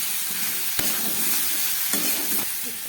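Ground mustard and poppy seed paste sizzling in a hot pan, a steady bright frying hiss with a few sharp scraping stirs and spatters.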